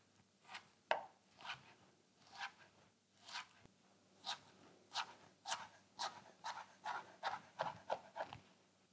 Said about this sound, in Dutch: Dan gaan we die gewoon in kleine stukjes snijden.